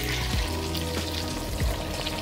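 Moonfish sizzles and crackles in hot oil, a steady close frying hiss with occasional soft pops.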